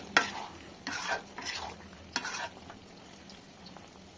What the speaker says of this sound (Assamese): ভালদৰে লাৰি